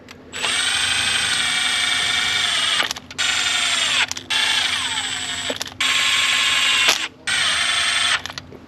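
A power tool runs down cylinder head bolts on a 2.3L EcoBoost engine, whirring loudly in about five separate bursts with short gaps between them.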